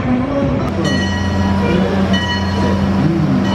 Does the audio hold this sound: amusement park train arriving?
yes